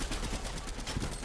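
Video game gunfire rattles in quick, loud bursts of rapid shots, close up and continuous through the short moment.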